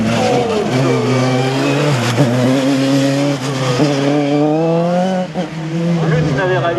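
Single-seater race car number 3 runs a slalom course at the Slalom du Mortanais, its engine loud and close, revving and shifting through gears in a sustained drone with brief lifts, while a commentator talks over it.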